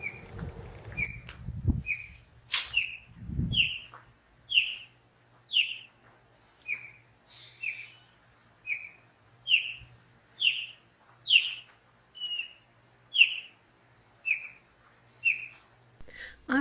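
Osprey calling with loud, clear whistles, a steady series of about a dozen evenly spaced sharp chirping whistles, fairly close, with a few soft bumps early on.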